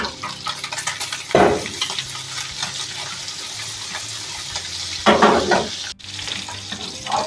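Steady sizzling of chicken necks frying in a hot pan, with occasional scraping and stirring bursts, close and continuous.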